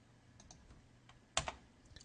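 Typing on a computer keyboard: a few quiet, scattered key clicks, then a sharp cluster of louder taps near the end.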